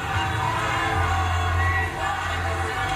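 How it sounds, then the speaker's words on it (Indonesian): A presidential debate audience in a large hall responds after a question-and-answer session with a sustained, loud crowd roar of clapping and cheering that holds steady for several seconds. "silakan beri tepuk tangan yang meriah dulu untuk sesi tanya jawab 3 calon presiden ini"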